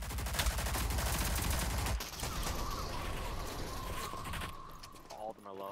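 Rapid D40 gunfire in the Rogue Company shooter, a dense loud burst of shots for about two seconds, then quieter continuing fire and game effects with voices talking over it.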